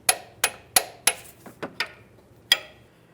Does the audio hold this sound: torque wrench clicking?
yes